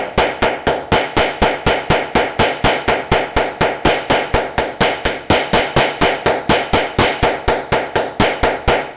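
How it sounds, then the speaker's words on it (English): Steady, rapid metallic taps of a ball peen hammer doming a rivet on a messenger bag ring out one after another at an even rhythm, loud and close, with no talking. "I am just as good with the other end of my ball peen hammer"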